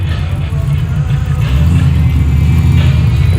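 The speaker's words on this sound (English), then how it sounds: "It sound like his carburetor idle too low." A carbureted drag race car idles loudly nearby, a deep steady rumble with a rough, lumpy low-end throb that holds throughout.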